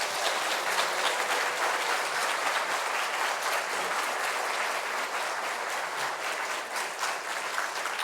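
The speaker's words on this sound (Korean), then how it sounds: "우리 교수님 나오실 때 환영의 박수 함께 하며 모시겠습니다." A church congregation at an afternoon worship service gives a warm, welcoming round of applause, dense and steady for about eight seconds with no talking.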